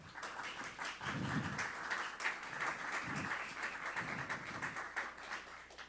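Faint, distant applause from an audience at a jazz education event, continuous scattered clapping with a few low thumps, heard alone without voices.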